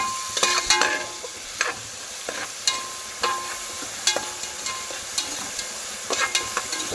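Chopped onions sizzle and fry in hot oil for chicken sukka, with repeated scraping stirs of a spoon against the pan over a steady crackle, close and moderately loud, no voices.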